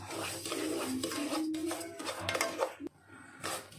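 Semolina roasting in ghee in a kadai for jackfruit kesari, stirred with a spoon: continuous scraping and soft clinks against the pan, steady and close, with a brief sharp knock near the end and no talking.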